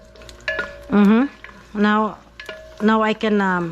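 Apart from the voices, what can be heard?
garlic sauteing in a pan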